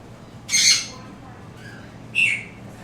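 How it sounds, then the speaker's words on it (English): An African grey parrot lets out two sharp, close squawks about a second and a half apart, with quiet room noise in between. "Ooh, African gray."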